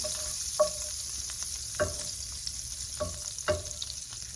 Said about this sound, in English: Grab my spoon, mix it around.